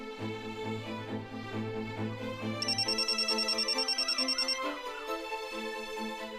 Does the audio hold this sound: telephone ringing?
yes